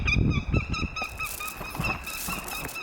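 A wild goshawk gives a rapid series of harsh, repeated calls as it is released, loud and close, then continues calling more raggedly against outdoor background noise.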